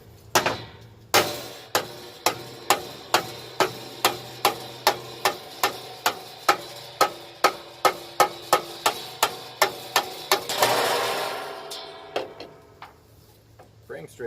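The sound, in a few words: straightening a 1961 Land Rover Series II rear cross member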